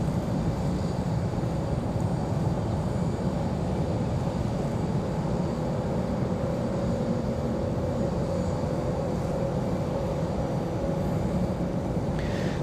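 A Republic Airways jet departs Raleigh-Durham International bound for LaGuardia, its engines making a steady, continuous roar that holds evenly for the whole stretch with no talk over it.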